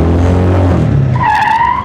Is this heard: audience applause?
no